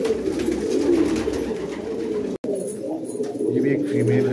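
White bar pigeons, a female among them, coo in a loft in Karachi, a low, steady, throaty cooing that runs almost continuously and close by, with a brief break midway.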